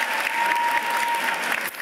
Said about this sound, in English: Round of applause for our health graduates.